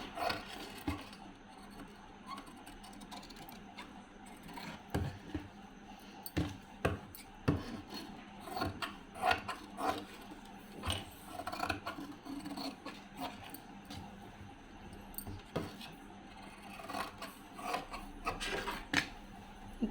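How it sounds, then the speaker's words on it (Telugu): Scissors cut the neck of blouse fabric in irregular soft snips and crisp clicks, close but faint, spread over a long stretch with no talk. "నెక్ కట్ చేసేద్దాం"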